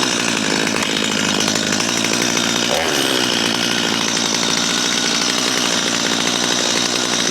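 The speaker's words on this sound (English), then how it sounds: "She seems to be running pretty good." A Stihl MS250 chainsaw in unknown condition runs steadily after a choke start, its loud two-stroke engine buzzing continuously and close by for the whole stretch, with a brief rev change midway.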